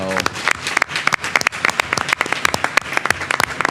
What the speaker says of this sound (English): I think that's worth a round of applause as well